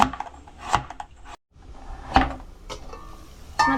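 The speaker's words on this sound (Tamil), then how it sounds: "இதுல சின்ன சின்ன பீஸா கட் பண்ணிக்கலாம்." Several sharp knife chops through yellow pumpkin on a board, cutting it into small pieces, irregularly spaced with short gaps, close by and moderately loud, with light clatter between cuts.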